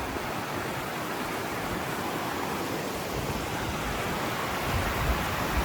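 A rain-swollen creek rushes along a woodland trail as a steady, broad, dense roar of water, constant throughout and uninterrupted by voices.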